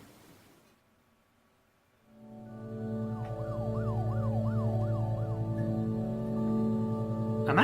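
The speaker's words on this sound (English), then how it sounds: "Why is the police sirens just happening?" A police siren wails after a near-silent start, rising in to a loud, steady cycling warble over a low engine drone that lasts to the end, with no voices.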